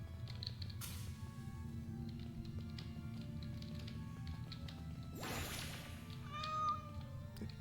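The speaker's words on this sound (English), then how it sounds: "I hear a cat." A small cat meows in a video game, a faint, thin cry late in the clip over a low ambient game drone, preceded by a couple of brief soft splashing or squishing bursts.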